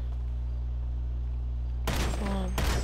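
Several gunshots fired at car tyres in the GTA 5 video game, a couple of close, loud bursts in the last second over a steady low hum, with no talking.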